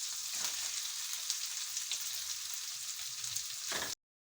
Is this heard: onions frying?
yes